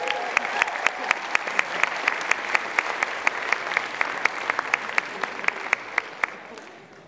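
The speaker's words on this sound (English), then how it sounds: "can we have a big round of applause for Sophie McGranigan" Audience at a school talent show applauding a fourth-place contestant, a dense steady wash of clapping with a few sharp louder claps standing out, sustained for several seconds and fading slightly at the end.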